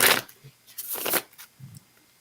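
A deck of tarot cards being shuffled by hand: a few quick, papery riffling bursts close by, separated by short pauses.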